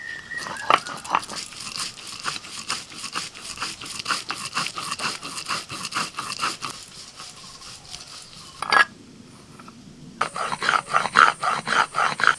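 White and black mustard seeds with salt and green chillies are ground into paste in repeated rhythmic scraping strokes, close and steady. The grinding pauses briefly near the end, then resumes.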